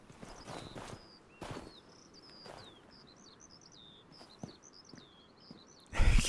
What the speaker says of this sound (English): You can still hear the birds chirping.